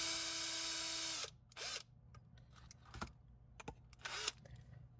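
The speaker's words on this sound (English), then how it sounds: "So I'm gonna attach it to my drill." A power drill twisting jewelry wire whirs loudly for about a second and winds down, followed by short bursts of drilling and a few clicks and taps.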